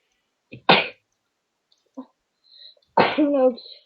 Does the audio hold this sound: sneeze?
yes